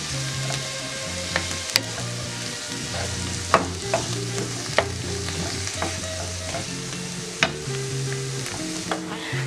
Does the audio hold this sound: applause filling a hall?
no